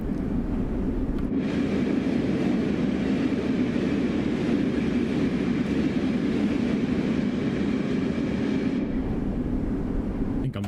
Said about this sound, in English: I reckon they sound pretty good. They sound like trains.